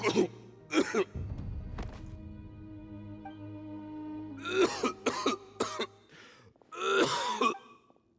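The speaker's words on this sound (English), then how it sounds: "Why is he coughing so much?" A video game character coughs repeatedly in harsh bursts, clusters of hacking coughs and throat clearing with a moaning wheeze, separated by quiet stretches with faint background music.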